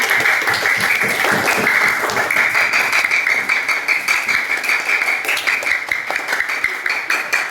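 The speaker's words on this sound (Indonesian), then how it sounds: "Tepuk tangan dong untuk Mama Dia." A class of fifth-grade primary pupils claps for a classmate, a dense, fairly even patter of many small hands that holds steady and thins slightly toward the end.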